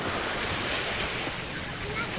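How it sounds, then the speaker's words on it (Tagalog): Sea waves wash steadily at a shore on a ride to Dinadiawan, a dense continuous surf roar mixed with wind buffeting the microphone, with faint voices underneath. "Dagat."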